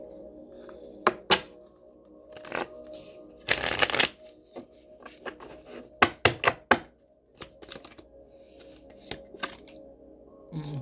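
Tarot cards shuffled by hand, giving bursts of crisp riffling and sharp slaps, including one long dense riffle and several quick clusters of snaps, close and clear with no talking.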